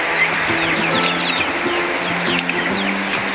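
Hens cluck and chatter continuously nearby around a rooster, with short chirpy calls and a few sharper squawks over a busy farmyard background.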